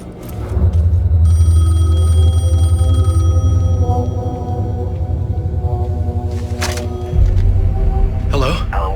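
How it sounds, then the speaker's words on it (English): A payphone rings in the video game Alan Wake 2. It gives a sustained electronic ringing tone over a low ambient drone, with a few brief noisy bursts and no speech. "The payphone was ringing."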